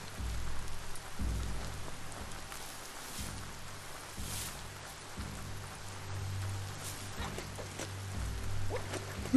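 Steady rain falling in the video game Biomutant, a continuous soft patter on surfaces with low rumbling underneath, moderately quiet and without talk.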